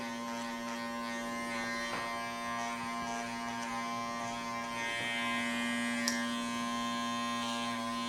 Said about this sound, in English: I'm going to be using the trimmer to make a guideline